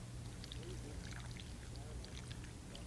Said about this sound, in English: take your green beans that have been drained, that are still warm, and pour in your marinade